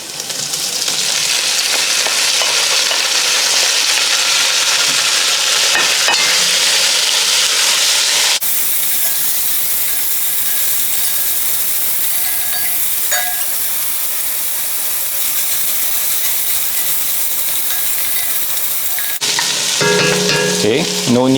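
Meat sizzles loudly in a hot pan with onions and garlic for a Filipino lechon paksiw, a steady broadband frying hiss that runs without a break from start to finish.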